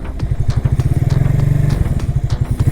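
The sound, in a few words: FKM Agimat 175 motorcycle engine revving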